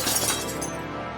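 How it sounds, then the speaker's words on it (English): A car's back window shatters in one sharp, loud burst of breaking glass that rings and tinkles briefly before fading out. "The back window cracked."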